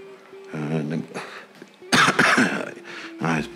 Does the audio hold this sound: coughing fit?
yes